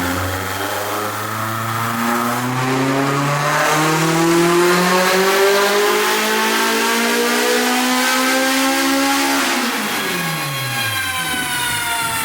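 A Honda K20/K24 all-motor engine in an EG hatchback revs hard through a dyno pull, climbing steadily for several seconds, peaking, then dropping as the throttle closes. The sound is loud and close, with no talking.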